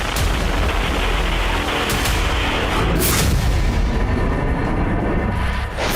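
A Russian missile strikes a building in Ukraine, producing loud, continuous roaring blast noise with rumbling booms that fill the whole stretch, close and overwhelming, with no voices heard.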